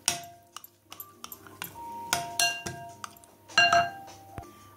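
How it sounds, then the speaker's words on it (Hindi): A spoon stirs yogurt raita in a bowl with chopped coriander, green onion and chili, giving a run of light, uneven clinks and taps against the dish, close and fairly quiet. "आप इसको हिलाएं।"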